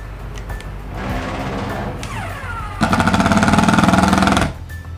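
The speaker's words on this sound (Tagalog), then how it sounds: "Kaya mas maganda talagang pang drive ng screw. Ito yung mga impact driver." Bosch GDR 120-LI cordless impact driver sinking a screw into hardwood, a loud close whirring motor that breaks into a fast, rattling hammer burst for about two seconds before stopping.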